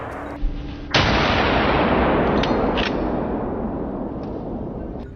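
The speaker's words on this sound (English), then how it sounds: "A thunderous bang echoed, and one boar dropped instantly." One loud hunting-rifle shot fired at wild boars in a forest cracks out after a faint earlier pop, then rolls into a long, thunderous echo that slowly fades.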